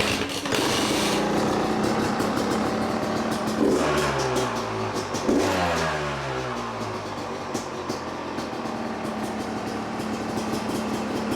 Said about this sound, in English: Just revving bikes in the neighborhood.